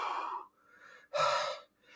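A voice imitates panting on waking from a nightmare, close and breathy: a sharp gasping inhale, a softer breath, then a strong rushing exhale.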